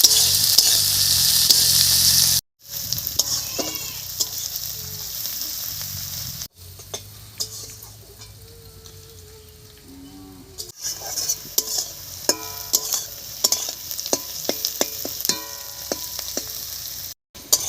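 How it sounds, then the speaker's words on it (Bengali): Chopped onion and green chillies fry in a pan for an egg dish, a steady sizzle broken by short pauses and scraping stirs, with sharp clinks of a utensil against the pan toward the end. "পেঁয়াজ আর লঙ্কাটা হালকা লাল করে ভেজে নিয়েছি"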